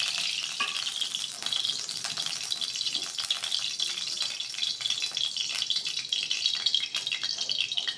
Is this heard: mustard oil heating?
yes